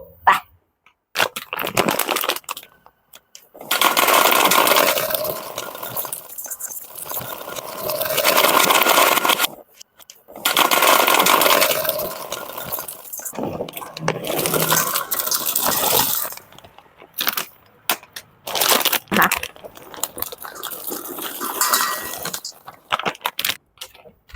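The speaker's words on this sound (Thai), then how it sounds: "เดี๋ยวเราจะมาทำการแพ็คใส่ถุงกันเลยนะจ๊ะ" Small pellets are packed into gold foil bags, with repeated rustling, crinkling and pouring bursts separated by short pauses, close and fairly loud throughout.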